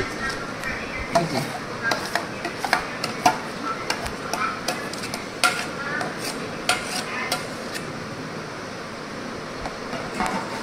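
A spoon stirs tomato paste into ginger and green chili paste in a pan, giving repeated scraping and clacking strokes with a steady sizzle underneath.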